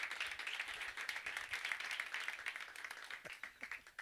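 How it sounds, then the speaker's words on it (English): Audience applause at a Virgin Galactic spacewear unveiling: a dense, steady patter of many hands clapping at moderate distance, sustained throughout with no voices over it. "a round of applause for Kevin and Richard"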